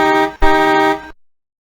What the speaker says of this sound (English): Hear that honking sound?